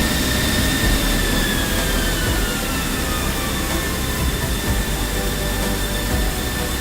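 A pair of F-16 Viper jet engines winding down after shutdown in a flight simulator, a steady loud roar with high whining tones slowly sliding lower throughout, no voices.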